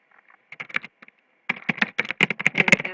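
Fast typing on a computer keyboard while entering notes into a leads list, a short tentative burst of keystrokes followed by a denser, louder run of rapid clicks, close and alone.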